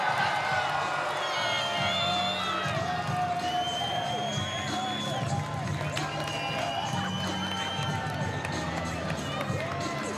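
A crowd at an Island Fights MMA event cheers and shouts after a submission win by armbar, a dense continuous roar with whoops, while voices talk over the noise.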